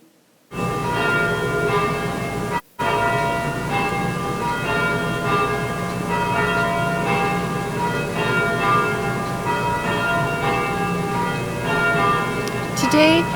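St Mary's church bells peal continuously, loud and resonant, overlapping tones ringing in a dense, sustained wash after a brief silence at the start.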